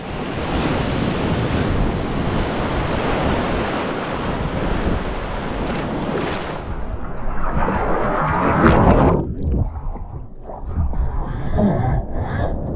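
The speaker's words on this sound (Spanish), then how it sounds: "Empieza a soplar bastante viento" Strong wind gusts rush across a sandy beach in a natural park cove while waves break and surge, a loud continuous roar with buffeting on the microphone that eases toward the end.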